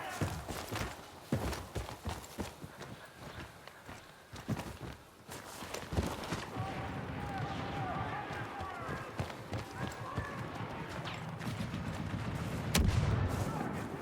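Multiplayer Star Wars Battlefront 2 combat, with sharp blaster gunfire bursts and running footsteps in the opening seconds, then a denser, continuous wash of battle noise, with in-game voices and a player talking throughout.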